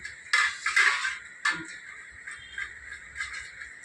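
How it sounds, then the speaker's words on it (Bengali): Two boiled, peeled potatoes being grated by hand on a kitchen grater: a few close, bright scraping strokes, the first ones grouped together, then lighter scrapes fading off. "এখন এটাকে আমি এই সিদ্ধ আলু কদুকস করে নেব"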